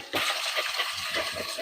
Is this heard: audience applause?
no